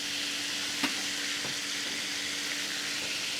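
Buffalo wings fry in a cast iron skillet with a steady, close sizzle and hiss of hot oil, broken by a couple of faint pops and shifts.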